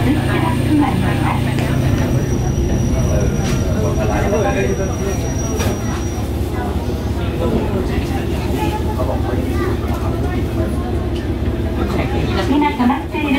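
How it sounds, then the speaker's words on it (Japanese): Steady low rumble of a limited express train on the Hisatsu Line climbing a loop line on a 300-metre-radius curve, with rolling wheel noise and a faint high whine throughout. "ただいま半径300メートルの円を描きながらループ線を登っています。"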